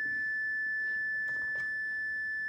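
A continuous high-pitched electronic beep from a Luna X1 battery's switch, sounding through its thin wire insulation, sounds steadily for the whole moment, with a couple of faint clicks underneath.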